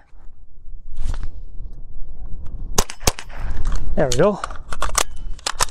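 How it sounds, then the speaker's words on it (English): Sharp gunshots from a GSG-15 .22 LR carbine at an outdoor range, a few loud close cracks spaced irregularly, with someone talking briefly between shots and a whistling tone near the end. "So obviously there's an issue with the follow through because I'm missing the second shot, but I seem to be getting the first one."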